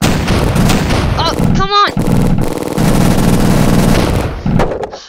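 Tank cannon fire in the Awesome Tanks 2 online game: loud, repeated booming shots crowd together over about five seconds. A voice briefly exclaims during the barrage.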